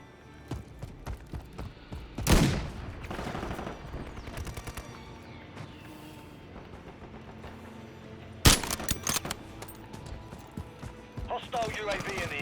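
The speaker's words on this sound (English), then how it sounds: "Taking fire! Are they shooting through the wall?" Gunfire from Call of Duty Modern Warfare 3 cracks out in two loud, sharp bursts, with rapid trailing shots and in-game clatter between them while a voice talks over the action.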